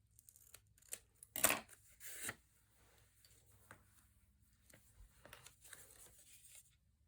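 Scissors trim paper for a card folio up close with a couple of crisp snips, followed by quieter paper rustling and handling.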